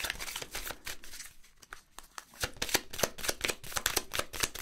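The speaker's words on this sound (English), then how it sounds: "I don't think I'm actually shuffling them very much" Playing cards riffled and shuffled in quick repeated bursts of crisp flutter, close up, with a brief quieter pause midway and no voices.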